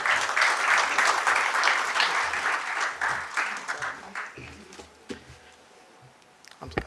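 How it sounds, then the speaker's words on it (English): Seminar audience at the Indian Resin Manufacturers Association event in a Lonavala hotel gives a round of applause, dense clapping that thins out into scattered claps and fades near the end. "with a huger round of applause"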